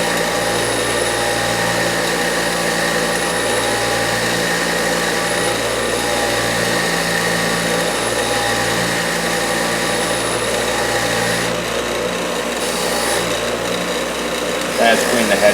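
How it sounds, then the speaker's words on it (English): Grinder running steadily and loudly through a 1973 Chevrolet C10 350 engine build, with a continuous motor whine and a slightly irregular low pulsing, while a person talks over it. "the grinder just started doing that"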